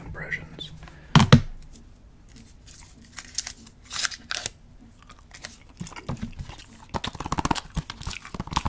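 Close, wet chewing with irregular smacks and crunchy clicks, some louder bursts, continuing steadily with brief pauses.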